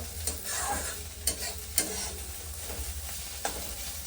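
A home pan of frying food hisses and crackles continuously nearby while a utensil scrapes and taps the pan a few times, no voices present.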